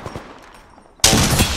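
Sudden loud burst of automatic gunfire in an Apex Legends match, a sustained rapid volley breaking in after a quiet stretch and continuing to the end.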